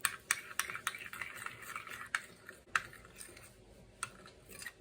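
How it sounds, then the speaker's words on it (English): Chopped parsley and salt being stirred into a dressing in a bowl, with faint, soft scraping and a few sharp clicks of a utensil against the dish, quiet and close. "I'm going to mix that all in here"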